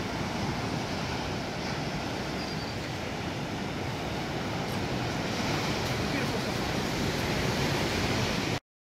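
Steady roar of ocean surf at a Cancun beach, continuous and fairly loud with wind buffeting the microphone, cutting off abruptly at the end.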